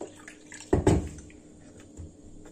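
Water poured into a homemade honey lemonade, a short splashing burst of liquid lasting under a second, close and moderately loud, followed by quieter trickling and drips.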